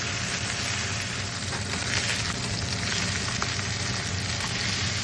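Two steaks searing in a hot skillet, a dense, continuous close sizzle that holds steady at full level throughout.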